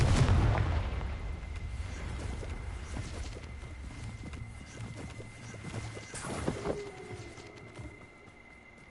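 A Confringo spell in Hogwarts Legacy bursts with a heavy low boom at the start, then a rumbling, crackling tail that lingers and swells again briefly before fading, loud and without speech.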